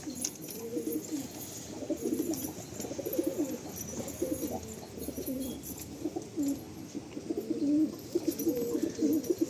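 Pigeons at a breeder's sale coo in soft, repeated rolling phrases nearby, a steady low murmur of calls over faint background noise.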